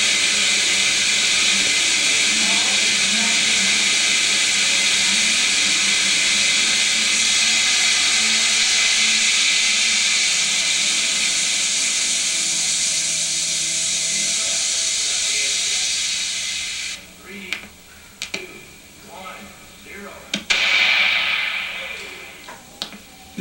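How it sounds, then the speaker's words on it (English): A pyrotechnic valve drains a rocket's nitric acid tank during a water flow test, giving a loud, steady rushing hiss that cuts off abruptly, followed by scattered clunks, drips and faint voices. "This is the testing of our pyrotechnic valve for draining the nitric acid tank in case of an emergency during a launch."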